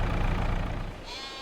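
Sheep bleating in the Farming Simulator 22 farming game, one loud drawn-out bleat close by, then fading into a quieter higher-pitched tail.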